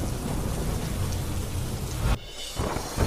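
Heavy rain pours steadily and loudly during flooding in Jamnagar, with rumbling thunder beneath, then a brief dip in intensity before the downpour surges back.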